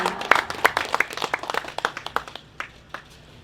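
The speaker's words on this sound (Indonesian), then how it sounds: "Tepuk tangan dong." Scattered hand claps from an audience at a Surabaya gathering with the MPR chairman, a dozen or so sharp claps fading out over a few seconds, with faint voices underneath.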